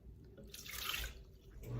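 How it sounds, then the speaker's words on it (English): Half a cup of water is poured into a blender, a short splashing gush that swells in the middle and trails off, quiet and close, with no voices. "So you're gonna add 1/2 a cup of water."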